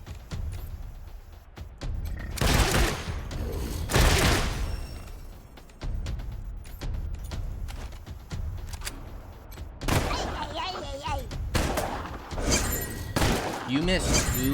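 Gunfire in the Wasteland 3 video game comes in loud, dense bursts with crashing impacts and thuds, spread across several volleys while someone talks over the combat.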